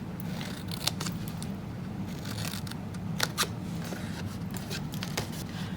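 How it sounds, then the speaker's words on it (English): Scissors snip through card to miter-cut the tabs of a handmade box, several crisp close cuts spaced irregularly over a steady low room hum, with no talking. "we're going to just miter cut them in as well, because these are our tabs."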